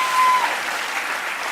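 An audience claps steadily in a short, dense burst of applause, with no other sounds standing out.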